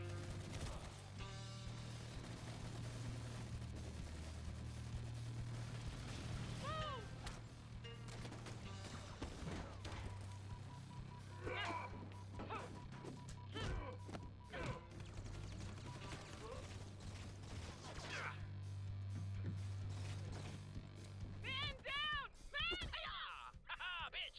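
Gunfire and main cannon blasts in a video game battle, scattered shots and heavy bangs mixed with game effects and chatter, fairly faint under people talking.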